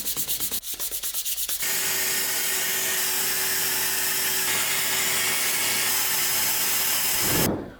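Power sanding of a 3D print to remove an overly thick first layer, a steady loud abrasive whir that starts after a few rapid stuttering bursts and runs continuously until it stops abruptly at the end.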